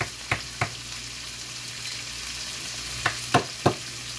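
Steady low sizzle of food frying in a pan, with a few sharp clicks and pops scattered across it, no talking.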